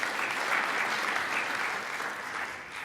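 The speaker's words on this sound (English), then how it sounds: "let's give these people a big round of applause." An audience at an International Myeloma Foundation gathering claps in a dense, even round of applause that carries on without pause for a few seconds.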